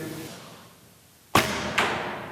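Arrows shot from a bow strike a target in two sharp thuds, each followed by a short ringing decay, after a quiet stretch of faint background hiss; no talking.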